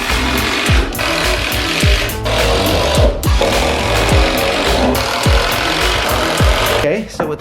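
A power drill whirs loudly in repeated bursts as it drives into wood, with the motor revving up and winding down several times.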